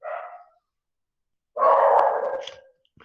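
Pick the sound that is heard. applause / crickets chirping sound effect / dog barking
dog barking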